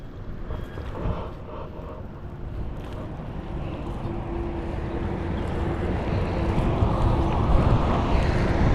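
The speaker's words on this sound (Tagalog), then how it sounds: "mahangin kasi masyado ngayon" Strong wind buffets the microphone with a steady, broadband roar that builds louder toward the end, near a dam on a fishing outing, with no voices.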